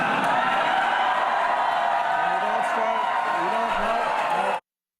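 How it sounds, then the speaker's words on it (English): A large crowd cheers and whoops loudly and steadily at a political event for President Obama, with voices rising above the roar before it cuts off abruptly near the end. "So you heard the cheers from the crowd there"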